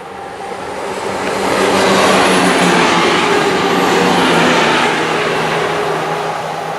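A West Midlands Railway Class 175 diesel multiple unit passes close by in the Telford area, a broad rumbling roar that swells within a couple of seconds, holds steady, then eases slightly as it runs on, with no voices over it.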